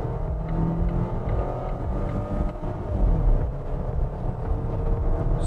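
A petrol Volvo XC40 accelerates hard toward 100 km/h, with a steady, loud engine drone and road and wind rumble throughout, heard from inside the cabin; a voice briefly speaks.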